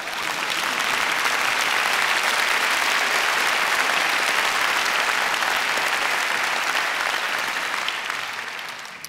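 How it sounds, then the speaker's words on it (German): An audience at the German Film Award ceremony claps steadily for about nine seconds, a dense, loud wash of many hands that fades near the end. "Das finde ich schon mal einen Applaus wert,"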